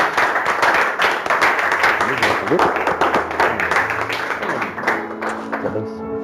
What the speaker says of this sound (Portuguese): Você pode aplaudir o Senhor pela vida deles?